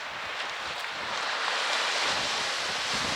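Surf washes onto a beach on the south west coast path, a steady broadband rush of breaking waves mixed with gusty wind noise on the microphone, with no talk.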